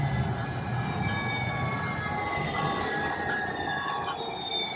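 A train passes nearby, giving a steady rumbling rush of wheels on rails with high sustained squealing tones over it, fairly loud and continuous, with no talking.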